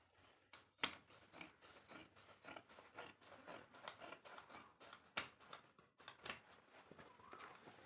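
Scissors cut through old denim jeans in a quiet run of short, rasping snips and crunches with a few sharper clicks, close and alone with no talking.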